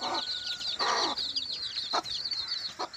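Week-old native chickens cluck and peep in high, rapid chirps, close by, with a few louder clucks breaking through the continuous chatter.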